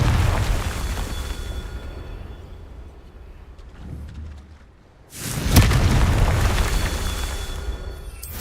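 Explosive Confringo spell cast in the Hogwarts Legacy video game: a deep booming blast at about the five-second mark that follows a quieter rumbling stretch, then a loud, sustained roar afterward.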